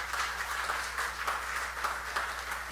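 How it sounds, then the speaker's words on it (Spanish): Church congregation applauding during a Spanish-language sermon, a steady wash of many hands clapping throughout at moderate distance, with no talk over it. "Dale un aplauso al Señor"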